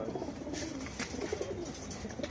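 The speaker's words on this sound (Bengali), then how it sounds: "এই কটা পায়রা স্ট্যাম্প করা হয়েছে" Caged pigeons coo softly in a low, murmuring stream, with a few brief flutters and knocks nearby. No voices are heard.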